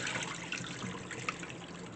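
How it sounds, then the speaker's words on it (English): Water is poured out of a pot of cooling boiled eggs into a sink, a quiet, steady splashing trickle that runs continuously with small bursts. "so let's dump the water again"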